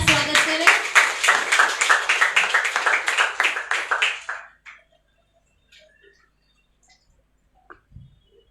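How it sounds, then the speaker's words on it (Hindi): A church congregation at a Sunday service claps together to welcome the pastor, a dense, lively round of applause lasting about four seconds that then stops suddenly, leaving near silence with a few faint knocks. "क्यों ना हम एक जोरदार ताली के द्वारा पास्टर डैनियल का स्वागत करें।"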